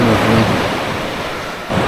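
Sea waves at a cove on Calayan Island, a loud, close surf rushing and washing over itself with wind buffeting the microphone, swelling at the end.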